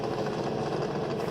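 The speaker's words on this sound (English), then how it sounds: "1934 Ford Roadster powered by a Roush Yates 8-cylinder, 358 cubic inch small block" A 1934 Ford Roadster with a Roush Yates 358 cubic inch small-block V8 rumbles steadily and loudly on the El Mirage dry lake racing course, a dense continuous engine drone with no talk.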